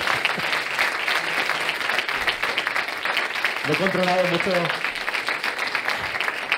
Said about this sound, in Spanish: Podéis aplaudir si queréis.